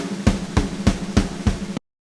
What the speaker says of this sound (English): So I've actually accented where I want the hard right hand to fall in that roll